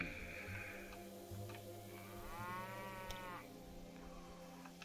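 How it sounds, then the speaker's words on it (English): Cattle moo in the Railway Empire 2 train game, a couple of drawn-out lowing calls, fairly quiet against a steady background of game sounds, with no talking. "Cattle are talking."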